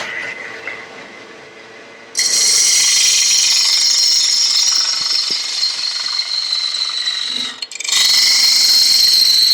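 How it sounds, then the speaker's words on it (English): A parting tool cuts into a spinning wooden blank on a lathe while truing the ends of a lidded box, giving a loud, steady high-pitched hiss and whine that starts abruptly, drops out briefly near the end, then resumes. "right now I'm just using a parting tool"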